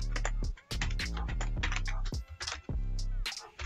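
Rapid keystrokes on a computer keyboard while a date is entered, a close, steady patter of clicks with a few short pauses over a constant low tonal hum.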